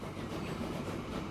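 A train runs in the Transport Fever 2 video game with a steady, dense rumble and rolling rail noise, moderately loud and unbroken, with no talk.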